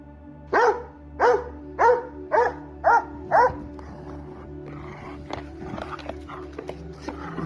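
A dog barks six times in an even, quick rhythm, loud and close, then falls silent, leaving a low background hum and scattered soft clicks.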